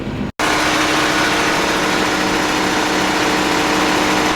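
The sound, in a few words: engine of a vehicle pulling the planter out of the shed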